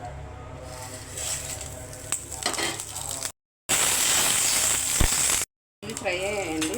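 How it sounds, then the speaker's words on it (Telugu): Spices tempering in hot oil for rava pulihora give a steady broadband sizzle, loud and close, with brief breaks in the sound and occasional clinks of a pan. "తాలింపు వేసుకుందామండి."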